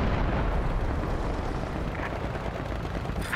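Heavy, unbroken booming rumble of 3-inch mortar fire in the World War II strategy game Company of Heroes 2, loud and dense throughout, with no clear gaps between rounds.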